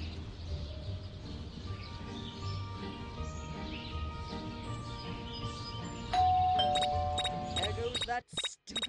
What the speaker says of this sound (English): That stupid bell again.